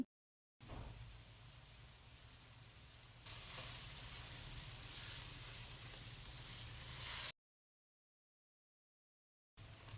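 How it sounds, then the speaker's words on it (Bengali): Onions frying in butter in a pan, a steady close sizzle that grows slightly louder partway through, then stops abruptly into silence. "বাটার দিয়ে যদি পেঁয়াজ ভাজা হয় তাহলে কিন্তু খুব সুন্দর একটা গ্রান বের হয়ে আসে"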